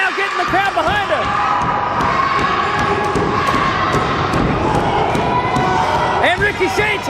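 A wrestling crowd at an NWA Mountain State show cheers for the War Machine, a loud, steady roar with shouts, thuds from the ring and commentary running over it.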